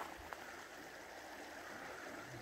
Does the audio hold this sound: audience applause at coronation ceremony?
no